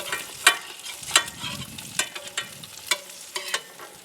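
A utensil cuts a large fried egg into pieces in a hot pan, giving a string of close, sharp scrapes and taps against the pan over a light sizzle.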